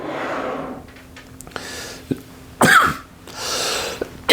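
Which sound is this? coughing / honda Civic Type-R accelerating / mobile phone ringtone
coughing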